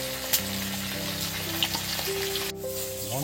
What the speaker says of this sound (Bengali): ভাজা হয়ে গেছে, এবার তুলে নিচ্ছি।